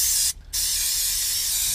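Brake cleaner aerosol sprayed into a brake caliper: a loud, steady spray hiss fills the clip, broken by one brief pause of about a quarter second near the start before the spray resumes.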